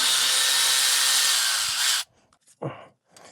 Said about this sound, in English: You can see we have 2 bolts here and then 2 bolts behind it that we're going to need to take off.